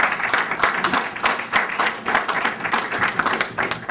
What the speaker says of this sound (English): I think you should all give yourselves a big round of applause.